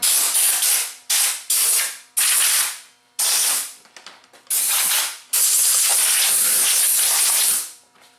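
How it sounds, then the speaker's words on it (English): Air compressor nozzle blasts dust out of a dead Samsung HPT5064 plasma TV in loud, close hissing bursts, several short ones followed by a long sustained blow. "I'm just going to blow some of the dust out of this thing."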